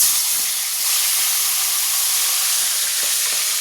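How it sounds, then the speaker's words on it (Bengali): Fish heads frying in hot oil give a steady, loud, dense hiss and sizzle that holds without a break for the whole stretch. "তেল গরম হয়ে গেছে, এবার মাছের মাথাগুলো ভেজে নেবো।"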